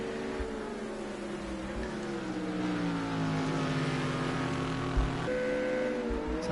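A GT3 race car's engine drones at Brands Hatch GP circuit, its pitch sweeping gradually across several seconds before a sudden change that suggests a gear shift near the end, loud and sustained throughout.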